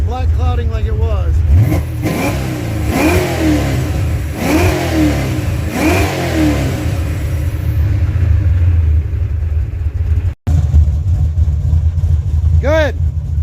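A car engine revs repeatedly after carburetor tuning, several rising and falling throttle blips over a constant close idle rumble, with a brief cut and one last rev, as people talk nearby.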